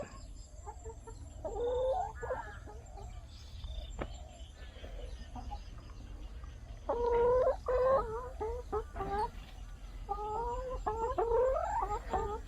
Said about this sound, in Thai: ผมมีแค่นี้มาปล่อยไก่ให้กิน